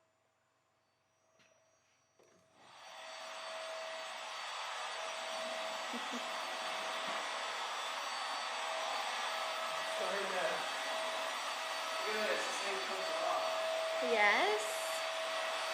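A household vacuum cleaner starts up and runs steadily with a loud, constant whine that fills the room, while a person speaks briefly over it.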